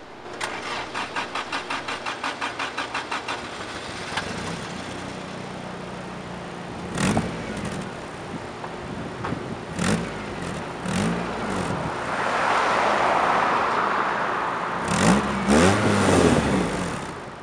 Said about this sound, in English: This is my old exhaust, and it sounds a little bit like this.